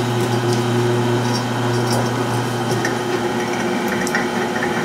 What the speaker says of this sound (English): I think we can go back to the drill press and drill these ones out